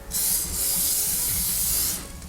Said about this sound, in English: I'm going to spray some oil on top